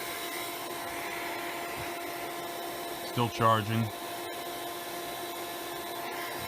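A vacuum cleaner runs off a Suaoki 150Wh portable power station, giving a steady close whine and hum throughout while a voice speaks briefly in the middle.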